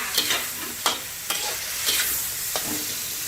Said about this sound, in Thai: ใส่ผักลงไปผัดเลยจ้า